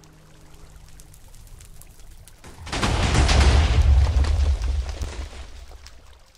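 A cluster of TNT explosions in Minecraft, a loud rumbling blast that builds suddenly after a quieter stretch, stays heavy with deep low boom and crackle for several seconds, then slowly fades.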